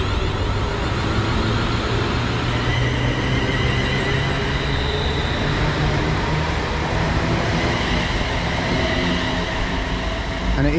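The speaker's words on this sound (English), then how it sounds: "the 1312 East Midlands Railway service to London St Pancras, calling at Luton Airport Parkway and London St Pancras from Corby" An East Midlands Railway electric multiple unit rumbles through Luton station, a loud continuous roar of wheels and motors with faint squeals and a rising whine, close and unbroken throughout.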